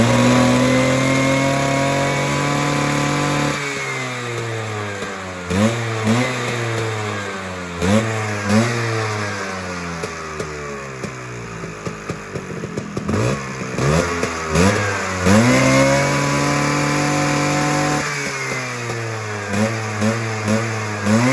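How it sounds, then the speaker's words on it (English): A Vespa or Lambretta scooter engine, jetted slightly rich, is revved up hard again and again in rising and falling sweeps, loud and close, with no talk. "this is an example of a scooter which is jetted slightly richly, but still revs out"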